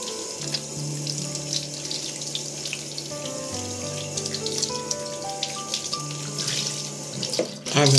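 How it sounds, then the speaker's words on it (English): A bathroom tap runs water into a sink while something is rinsed, a steady close splashing flow that continues throughout with light handling noise near the end. "And now rinse."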